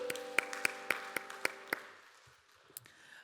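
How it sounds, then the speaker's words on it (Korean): A church congregation at a young adults' Sunday service claps in unison, seven or so evenly spaced sharp claps over a sustained organ or keyboard chord, then the music fades and a few stray taps follow. "서로를 격려하면서 박수하겠습니다"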